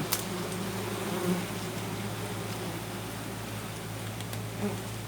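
Bees buzz densely around a honey-filled hive, a continuous close swarm drone that stays steady and fairly loud throughout, with a brief knock near the start and no clear talk.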